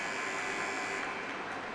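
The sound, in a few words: ice hockey arena buzzer at end of period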